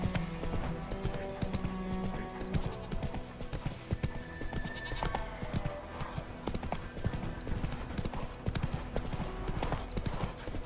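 Horse hooves clip-clop at a steady, rhythmic trot in The Witcher 3, a continuous clatter over soft game ambience.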